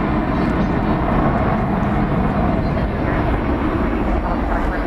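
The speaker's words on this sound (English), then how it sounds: "And we have American 2872 to Las Vegas, Airbus A321." An American Airlines Airbus A321 jet bound for Las Vegas roars steadily at DFW Airport at night, a broad, continuous engine rumble that holds at a constant loud level throughout.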